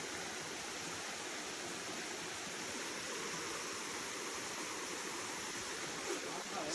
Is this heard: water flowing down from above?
yes